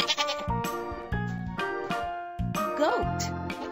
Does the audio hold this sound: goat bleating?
yes